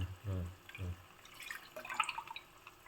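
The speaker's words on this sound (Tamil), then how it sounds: "நம்ம தண்ணியை விட்டு அலசி விடலாம்" Water is poured over dal to rinse it for rasam, a close run of splashing and dripping after a couple of brief low voice sounds.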